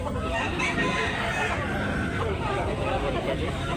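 Super brown gamecock roosters crowing amid the crowd noise of a Cebu chicken market, the calls partly masked by steady chatter and voices nearby.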